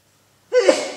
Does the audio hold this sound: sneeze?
yes